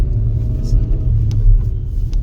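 Deep, steady engine rumble of a car on a hill road near Shimla, pulling away after stalling while the driver struggles with the clutch; low, continuous and close, with faint background noise.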